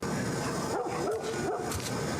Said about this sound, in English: the dog we hear barking that we then hear yelping as Sarah gets to the door